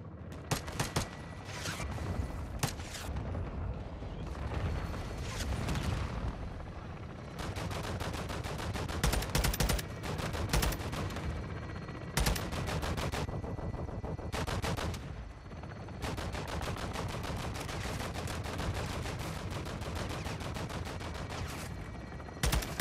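Sustained gunfire in Call of Duty: Modern Warfare 2, dense automatic bursts and sharp shots nearly nonstop for over twenty seconds, loud and close with brief gaps between volleys.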